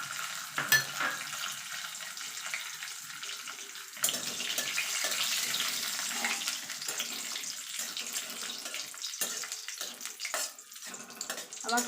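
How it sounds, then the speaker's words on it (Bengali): Cashews and raisins fry in ghee mixed with white oil, a soft constant sizzle broken by stirring scrapes and clinks, with no talking. "এখানে যে আমি কাজু কিশমিশটা রেখেছিলাম সেটা একটু ভেজে নেব"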